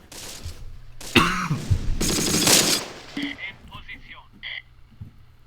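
Bursts of small-arms and machine-gun fire from the Close Combat wargame, firing in short broadband blasts between quieter stretches, with someone talking over parts of it.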